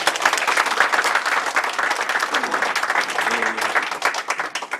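Warm applause from an audience closing a local lawmaker's constituency report meeting in Sanggye-dong, dense sustained clapping that fills the room, loud and continuous with a faint voice under it.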